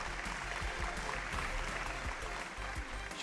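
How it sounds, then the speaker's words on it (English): Studio audience applause on a televised quiz show, a steady wash of many hands clapping at moderate level, continuous for the whole stretch with no talk over it. "Can we have a big round of applause?"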